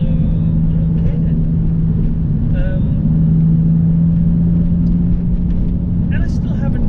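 A Porsche 911, the cheapest one in the UK, drives over a really rough road, its engine and tyre noise making a steady, loud rumble that carries on throughout.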